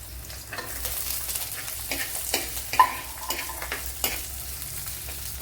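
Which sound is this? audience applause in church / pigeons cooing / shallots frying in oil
shallots frying in oil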